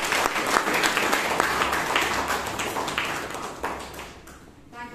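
A large room erupts in sustained applause for a speaker and evaluator at a Bangalore Toastmasters club meeting, dense clapping filling nearly five seconds before easing toward the end, with no voices heard.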